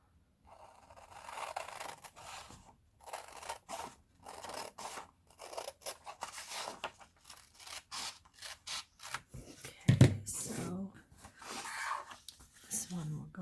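Scissors snip repeatedly through paper while trimming a botanical journal cover, a steady run of close, crisp cuts with short pauses between strokes and one sharper clack near the end.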